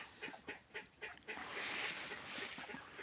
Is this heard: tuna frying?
no